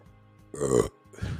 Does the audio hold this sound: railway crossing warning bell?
no